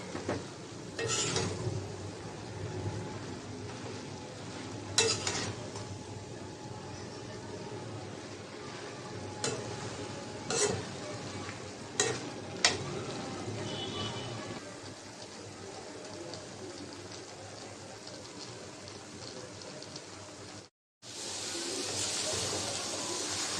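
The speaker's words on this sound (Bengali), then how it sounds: "শাকটা ভাজা ভাজা করব" Dhenki shak greens sizzle steadily in a pan while a utensil scrapes and knocks against it now and then; a brief silence occurs near the end.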